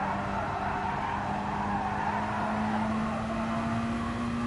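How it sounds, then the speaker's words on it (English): Tyres screech through turn three at Circuit de Barcelona-Catalunya in GT Sport Group B racing, a sustained squeal over steady engine drone, with no talk. "That is a lot of tyres screeching through turn three"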